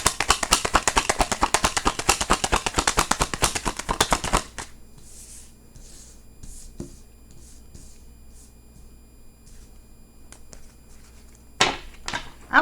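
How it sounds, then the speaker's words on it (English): A deck of tarot cards is shuffled rapidly and loudly for about four seconds, then single cards are drawn and laid down in soft, scattered handling sounds, with a brief louder shuffle near the end. "let's go ahead and get 4 more cards"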